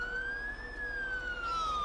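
A video game emergency vehicle siren from a firefighter mod siren pack, wailing in a slow rising and falling tone, fairly quiet and heard alone.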